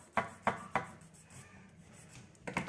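An artificial nail extension is rubbed with a nail file in three quick rasping strokes, then a pause and two more strokes, close and fairly soft.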